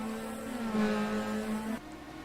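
Race cars lapping the Portland track, a sustained engine whine rising and holding as a car passes near, then cutting away abruptly.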